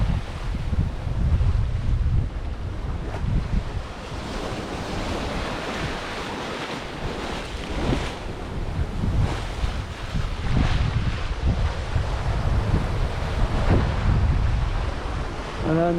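Ocean waves of about 2.5 metres surge and crash around a sailboat at sea during an Atlantic crossing, with strong wind buffeting the microphone in a constant loud roar.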